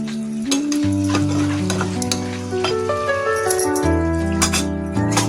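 Chapila fish curry with brinjal and potato bubbles and sizzles steadily in an uncovered pot, a loud, close, continuous simmer with occasional light rattles.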